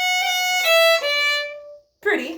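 A fiddle plays a short phrase of a reel, the Floggin Reel, with plain, even bowing, a few clear sustained notes ringing near and clean before fading, followed by a brief voice.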